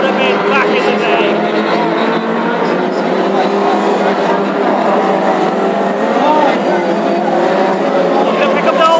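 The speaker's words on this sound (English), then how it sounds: "These superb classic hot rods flying the way around on Avon tyres" Classic hot rods on Avon tyres race around the Ipswich oval in a national championship qualifier heat, a dense, loud wall of engine roar from several cars at once with tyre noise, continuous throughout, with commentary over it.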